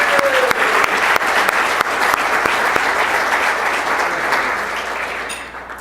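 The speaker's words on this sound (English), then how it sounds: "How about a special round of applause for them?" A school-event audience applauds the chamber singers and culinary arts class with dense, steady clapping that fills the room and slowly tapers off toward the end.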